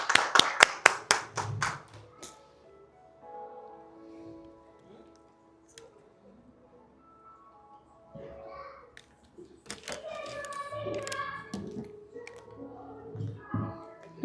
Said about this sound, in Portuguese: Uma salva de palmas para ele